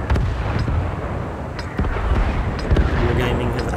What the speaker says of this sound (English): Wargaming have added a pre-match artillery strike to this map, just to make it seem a little more like an active battle